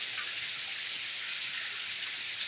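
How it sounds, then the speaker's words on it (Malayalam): Heavy rain falls outside during monsoon-season home cooking, a steady dense hiss of downpour holding at an even level throughout, with no speech over it. "നല്ല മഴയുണ്ട് അതുകൊണ്ട് മഴയുടെ സൗണ്ടും ഉണ്ടാവും"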